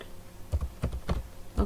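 Typing code on a computer keyboard: a few quiet, irregular keystrokes and clicks, close and soft, with no talk over them.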